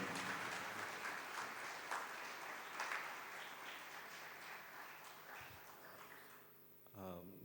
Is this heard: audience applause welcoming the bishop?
yes